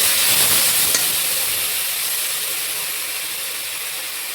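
Gobi Manchurian ingredients frying in a pan until golden brown, a steady close broadband sizzle with faint crackle and clinking at the start, gradually easing in loudness, no talking.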